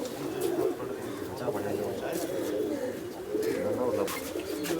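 Pigeons at a loft coo in soft, repeated low burbles close by, under someone talking.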